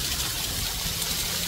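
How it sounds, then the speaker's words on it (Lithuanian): Water pours steadily from a waterfall in Geiranger, Norway, heard close as a continuous broadband rush with no pauses and no voices. "labai norėjau va taip, paimti telefoną ir eiti po šituo tekančiu vandeniu"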